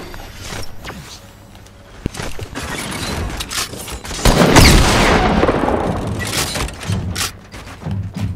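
Gunfire in Fortnite with sniper shots among scattered cracks and a heavier burst of shooting midway, mixed with game effects, loud and close without talk.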